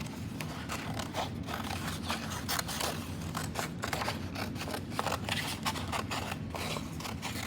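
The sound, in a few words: scissors cutting a zigzag paper silhouette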